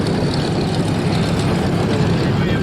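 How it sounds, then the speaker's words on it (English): A propeller airplane fires up its engine at the Wings Over Northern Michigan air show, a steady loud broadband roar and rumble that holds evenly throughout. "There's a cool airplane here firing up."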